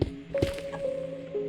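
Crying obsidian being broken in Minecraft, heard as a few short digital cracking and squishing hits with a brief tonal ring between them, alone with no talk.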